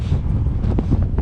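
Strong cold wind buffeting a handheld camera microphone outdoors in St. John's, Newfoundland, producing a continuous low, rough rumble with irregular gusty thumps and no voices.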